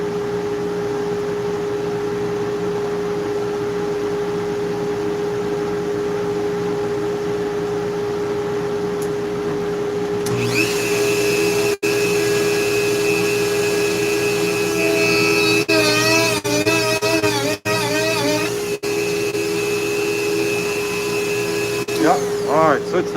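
A Dremel rotary tool carving starts up about halfway through and runs as a steady high whine that shifts pitch as it bites. It runs over a constant background hum, with brief talk underneath.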